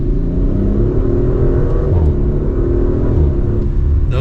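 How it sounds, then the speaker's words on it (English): A 2023 Audi RS5 Coupe Competition accelerating hard from second gear, its exhaust a loud, steady, close-up roar with rising engine tone, no talking. "if I push RS on the steering wheel, the exhaust is going to get a little bit louder. And so now, if we give it an acceleration from 2nd gear"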